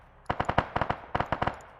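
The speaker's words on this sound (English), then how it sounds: "So they're going to hear those gunshots." Rapid bursts of automatic gunfire crack out in quick clusters, sharp and close, with short pauses between volleys.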